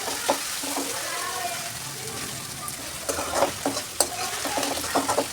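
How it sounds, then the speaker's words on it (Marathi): Onion and tomato fry in a pan with a steady close sizzle while a spoon stirs them. The stirring adds scraping strokes that grow busier toward the end. "आता छान कांदा आणि टोमॅटो दोन्ही असं परतून झालेलं आहे"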